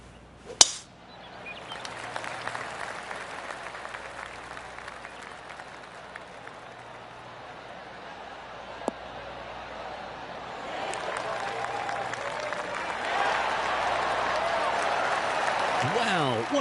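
A golf crowd in PGA Tour 2K23 cheers and applauds after a tee shot, a sharp club strike followed by a broad wash of clapping and cheering that swells louder toward the end.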